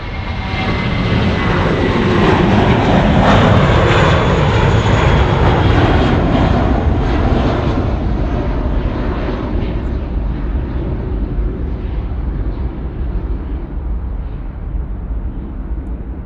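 An Asiana airliner lands at Sydney Airport with a loud, broadband engine roar that holds steady and then slowly fades as it rolls away.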